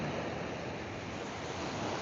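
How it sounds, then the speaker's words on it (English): Steady ocean surf on a South Florida beach, with seaweed in the water, roars continuously and loudly, mixed with wind buffeting the microphone and no pauses. "We're in South Florida on the beach."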